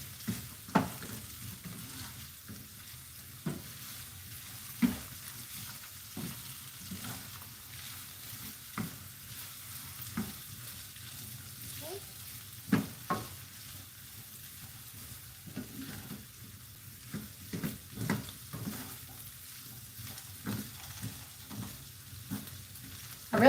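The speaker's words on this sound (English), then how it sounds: "The key to making your potatoes is you continue to stir them." Potatoes and onion frying in a pan while being stirred, a steady low sizzle broken by frequent soft scrapes and clacks of the utensil at an uneven rhythm, close by with no talking.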